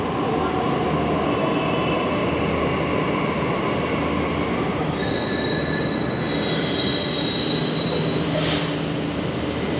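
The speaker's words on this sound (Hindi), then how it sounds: "ये देख सकते हैं मेट्रो मेरा आ रहा है भाई साहब" A Delhi Metro train rumbles into the station with a steady roar, faint squealing tones rising as it slows, close and continuous throughout.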